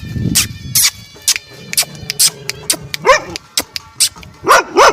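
Village dogs at a rural home bark in a string of sharp, loud, close barks and higher yips, spaced irregularly with brief pauses and no talking.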